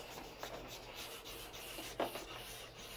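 A blending stick rubbing colored pencil on paper, faint close scratchy strokes repeating steadily with one slightly sharper scrape midway.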